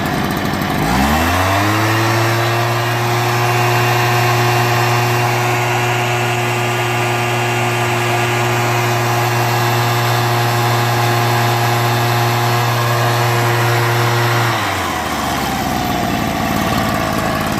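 Fradan BB-51 backpack leaf blower's small two-stroke engine starting up and running at a steady idle, loud and close, with a constant buzzing hum for about fourteen seconds before cutting out.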